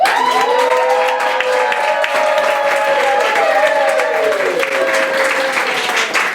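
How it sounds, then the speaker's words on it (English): Loud, steady studio-audience cheering and applause in response to a game show contestant's answer, with overlapping whoops and shouts filling the whole stretch without a break. "the more you loved what a contestants wrote, the louder you cheer for them"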